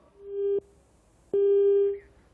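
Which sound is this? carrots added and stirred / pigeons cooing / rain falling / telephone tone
telephone tone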